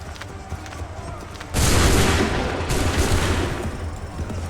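A loud musket volley bursts out all at once in Assassin's Creed III, a dense crackling roar of many guns that rumbles on and slowly fades.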